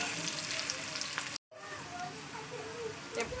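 Onion fries in a pan with a steady, fairly close sizzle and crackle, briefly cut off by a short gap midway, while a person talks faintly over it.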